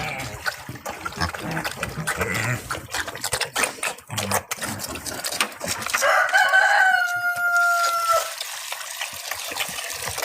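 A rooster crows once partway through, its long harmonic call ringing out over scattered chicken clucks, clatter and background farm noise with pigs nearby; no talk.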